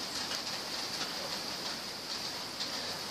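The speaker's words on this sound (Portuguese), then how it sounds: "Está chovendo, não consigo sair daqui." Steady rain falls outdoors as a soft, constant hiss with scattered faint drop ticks, fairly quiet and with no voices.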